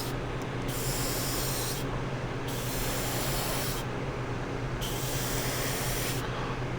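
Airbrush spraying enamel paint onto a Gundam model rifle, a steady close hiss in several bursts, each a second or two long, separated by brief pauses.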